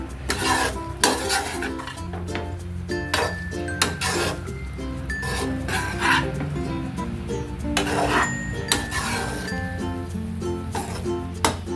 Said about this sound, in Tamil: இந்த பிரெட் உடையாத அளவுக்கு கொஞ்சம் கவனமாக நம்ம வந்து இதை வதக்கிடலாம்